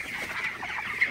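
Broiler chickens clucking inside a chicken house at night, a dense, continuous murmur of soft clucks from many birds with one sharper call near the end.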